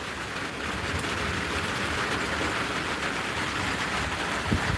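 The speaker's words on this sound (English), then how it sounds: "all I'm doing is shooting it raining and putting it as a live." Steady rain falls continuously, a soft even hiss of drops hitting surfaces with no voices, recorded outdoors.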